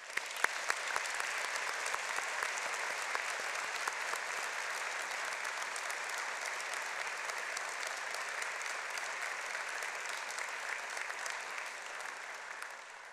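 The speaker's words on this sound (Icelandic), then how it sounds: "Við skulum gefa þessum myndarlega hópi gott klapp." Sustained applause from a large audience at a University of Iceland graduation ceremony, a dense steady clatter of many hands clapping that holds evenly for the full length.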